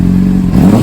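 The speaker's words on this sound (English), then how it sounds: "I'm gonna go ahead and give it a quick rev." A Honda CBR600RR sport bike engine, on a wrecked bike being rebuilt, gives a quick, loud rev from a steady idle, rising briefly and staying close and continuous throughout.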